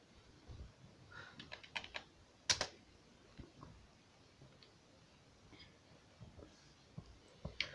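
Computer keyboard typing into a Chrome browser search bar, scattered soft key clicks in short bursts with pauses, close and quiet, no speech.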